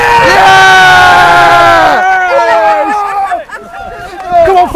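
Football supporters at a Redstar Smarts News FC versus Crows Nest 2nds FC match cheer and whoop loudly as one crowd, a sustained roar of jubilant voices that thins into scattered shouts and calls.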